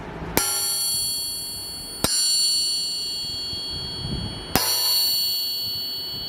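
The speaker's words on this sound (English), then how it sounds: "Here's the sound of a forging aftermarket." A forged aftermarket crankshaft struck three times, each tap ringing out with a clear, sustained bell-like tone that lingers until the next strike, spaced a couple of seconds apart and heard up close.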